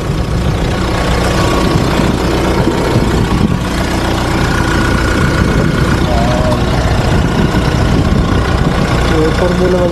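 A 2025 Mitsubishi Triton base-model 4WD turbo engine idles with a close, steady rumble and a faint whir, while a person talks over it.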